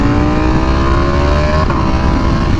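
Ducati V4R motorcycle with traction, wheelie and slide control switched off, accelerating hard: a loud, close engine note rising steadily in pitch as it pulls through the revs.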